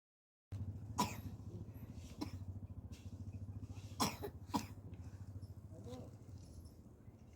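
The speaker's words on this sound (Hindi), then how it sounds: "खांसी हो गई" Several sharp coughs burst out over a constant low vehicle hum, spaced irregularly, some in quick pairs, fairly close.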